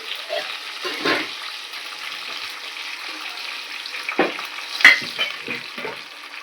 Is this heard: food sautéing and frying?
yes